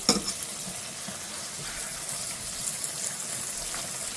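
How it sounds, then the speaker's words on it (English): Okra sizzles steadily in shallow oil that barely covers the pods, a dense, even frying hiss with a crackle at the start, close and continuous with no voices. "the oil is barely covering the okra, and that's a good thing because that means they're cooking on both sides"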